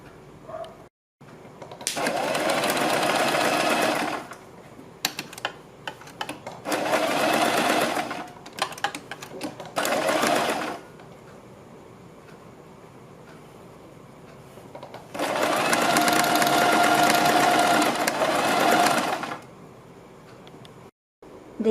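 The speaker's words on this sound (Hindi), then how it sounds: "देखिए हमें इसके ऊपर इस तरह से सिलाई लगानी है" Sewing machine stitching a seam along folded fabric, running in steady whirring bursts of a few seconds each, separated by pauses with small handling clicks; close and fairly loud, no talking.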